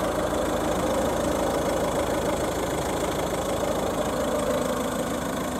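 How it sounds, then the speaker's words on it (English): A 2010 Ford Kuga Titanium's engine idles steadily, a continuous even hum running alone for the whole stretch with no voices over it. "you can hear the engine ticking over and running"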